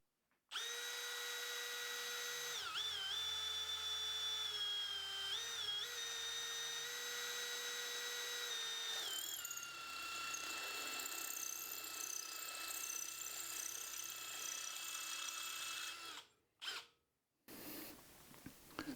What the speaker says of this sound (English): This is 2mm stainless, just so you get the idea why these drills work so well. Drilling dry